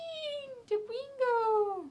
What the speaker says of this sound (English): This right here is my kitty Tapreen